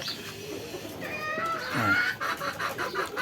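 Quail call in short, high, chirping bursts that grow busier toward the end, close by, over a low rustling background.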